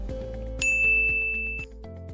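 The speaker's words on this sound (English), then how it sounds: "hit the notification bell" A bright notification bell ding rings out once, clear and sustained, over a low steady hum, then fades.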